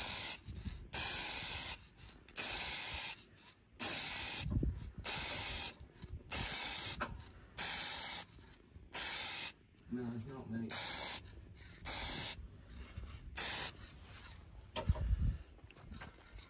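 An aerosol can sprays gloss black paint onto car dashboard trim pieces in a run of short hissing bursts, about a dozen quick passes with brief pauses between them, close and clear.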